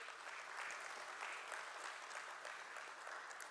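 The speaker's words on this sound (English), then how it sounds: "Once again, a big round of applause for MobiKwik." A crowd applauds continuously at the One MobiKwik Systems stock listing ceremony at BSE, dense steady clapping heard from a distance and fairly faint, with no voices over it.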